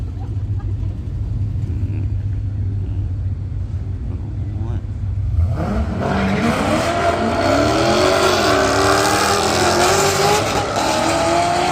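Powerful engines of Dodge Challengers and Chevrolets roar and rev as they launch at a Gainesville, Florida drag strip, the pitch rising sharply, loud and close with a constant crowd-like background.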